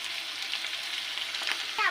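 Potatoes fry in a pan with salt, turmeric, cumin and coriander powder, giving a soft continuous sizzle with a brief stirring scrape near the end.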